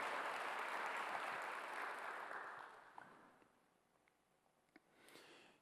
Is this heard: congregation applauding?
yes